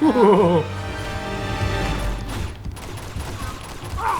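Gunfire rattles in the video game Uncharted 2: Among Thieves, a dense burst of shots in the middle beneath someone talking at the start and continuing game noise.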